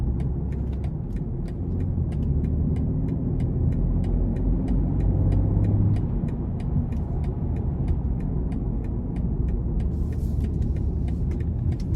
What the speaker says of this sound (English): It's just unbelievable how tame this car is in this Eco Pro mode.